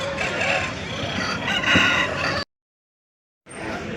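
A rooster crows loudly nearby at a hen market, a long raspy call over outdoor noise, followed by a sudden stretch of silence before the sound resumes.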